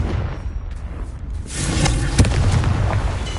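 A Confringo fire spell from Hogwarts Legacy erupts in a loud, rumbling blast with a sharp crack near the middle, followed by a sustained roaring burst, heard alone without talk.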